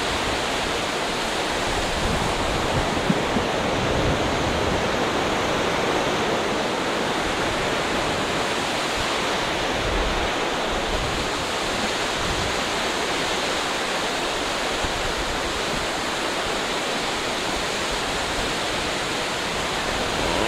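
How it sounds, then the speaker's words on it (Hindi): Strong wind roars steadily into the microphone of a motorbike riding across a vibrating bridge lined with flapping flags, a dense, unbroken rushing noise that holds at the same loud level throughout. "हवा का प्रेशर आप लोग चेक करें ज़रा कैसा है"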